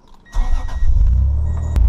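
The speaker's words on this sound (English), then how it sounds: "we're going to come inside the car and we're going to start it up" A car engine starting with a crank and catch, then settling into a steady, close idle inside the car, with a brief key-like jingle near the start and no talk.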